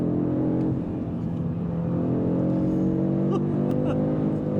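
A 2024 Audi RS3 accelerates in RS drive mode, its engine a steady, loud, droning growl heard from inside the car on a curvy road, with a few faint clicks.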